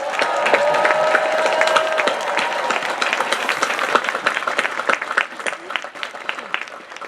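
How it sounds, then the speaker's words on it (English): A rally crowd breaks into sustained, dense applause, many hands clapping at once, with scattered cheers and whoops. A brief whistle tone rings out early, and the clapping thins toward the end. "Can we give another big round of applause for all the people holding this space and keeping us safe?"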